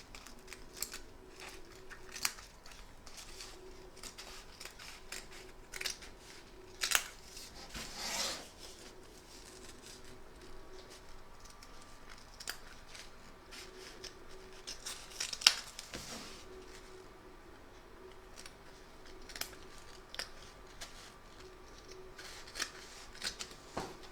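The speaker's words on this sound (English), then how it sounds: "So turn your hoop over and trim around the edge of the stitch line" Scissors snip and rub through excess fabric around the stitch line of an appliqué in an embroidery hoop, giving quiet, irregular cutting and rustling sounds with a few sharper snips, close and soft.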